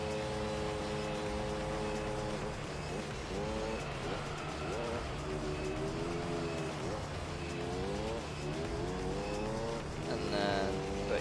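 Race cars in a Gran Turismo 3 video game race roar continuously with shifting engine pitch and gear changes, steady and fairly loud, with speech faintly under the engines.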